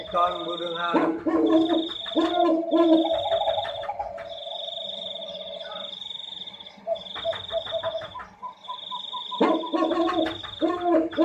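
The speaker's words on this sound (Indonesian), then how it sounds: "ringtone burung hantu." An owl-hoot ringtone plays loud and close, with a repeating pattern of electronic, tonal hoots and coos over a high, steady beeping tone.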